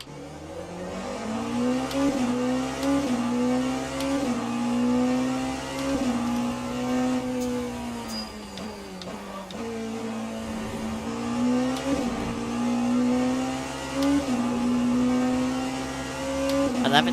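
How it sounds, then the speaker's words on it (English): A Porsche race car in the Le Mans Ultimate racing sim at Imola, engine droning and revving steadily with gear-shift dips as it runs past, loud and close throughout with a faint rise near the end. "There goes the Porsche that we're chasing down."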